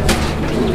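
Pigeons held in the hand at a pigeon seller's, giving a brief, loud burst of bird noise close to the microphone with a low rumble of room sound behind.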